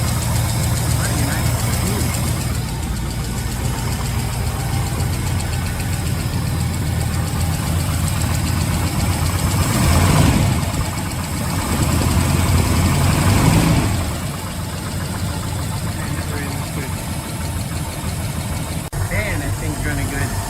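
A 1956 Ford engine, fitted with a new carburetor gasket and a new electric choke, idles steadily and close by. The loud, even rumble runs the whole time with a slight swell midway, and a voice talks over it now and then.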